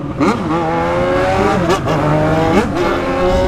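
A Yamaha XJ6 motorcycle engine revs hard and fast nearby outside a nightclub, pitch climbing and dropping repeatedly, loud and aggressive throughout.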